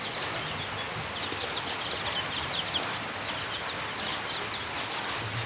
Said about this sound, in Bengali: সবগুলাই মুরগি দেখেন খাইতেছে,